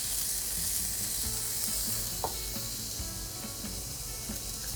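Salad ingredients sizzling and being stir-fried in a preheated frying pan, a steady close frying hiss with small crackles and light scraping throughout, no voices.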